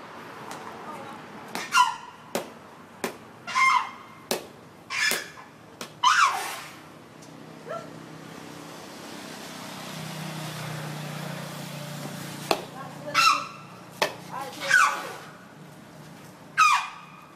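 Repeated high squealing elephant trumpets, several in a row, mixed with sharp metallic knocks and clanks, moderately close over light background noise.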